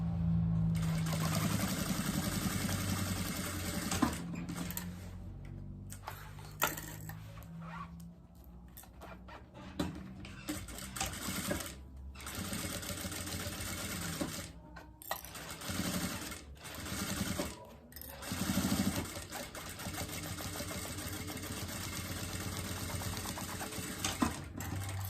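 A sewing machine stitches the seams of a cloth diaper holder, running in long steady bursts with short pauses and brief back-and-forth reverse stitches at the start and end.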